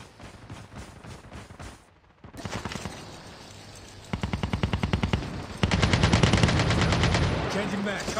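Bursts of automatic gunfire from a battle royale video game, rapid rhythmic volleys that grow louder and denser toward the end, with a brief pause early on and no talk.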